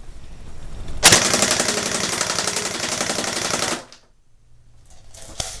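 A Crosman Pulse R76 airsoft gun firing on full auto, one loud rapid rattling burst of close shots lasting under three seconds before it stops abruptly, followed by faint handling noise and a single click.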